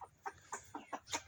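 A backyard chicken gives five or six short, evenly spaced clucks, close and fairly quiet, with no one talking.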